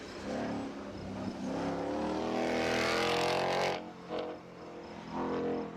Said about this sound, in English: he's driving a Turbo RX-8 on the overall King of the Mountain